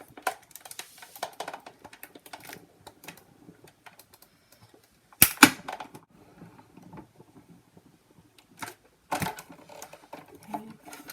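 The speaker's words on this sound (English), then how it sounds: "I'm just die cutting a die cut" A die cutting machine cutting paper for a Halloween pop-up matchbook, heard as faint, sparse mechanical clicking and whirring, with louder bursts of rattling and clunking around the middle and again near the end, alone without talk.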